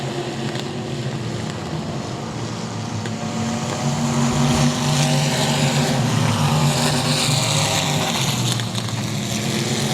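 Race cars roaring around a dirt track, engines buzzing and droning in overlapping waves at a distance, swelling louder partway through as the pack passes.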